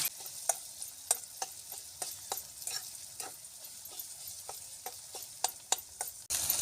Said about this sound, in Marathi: हे बघा आपला कांदा भाजला